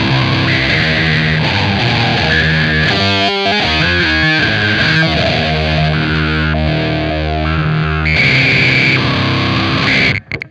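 An electric guitar runs through a Beetronics Zzombee Filtremulator pedal, its step sequencer chopping a distorted, filtered tone into a fast, continuous stream of shifting pitched steps that stays loud throughout.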